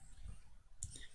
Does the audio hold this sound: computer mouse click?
yes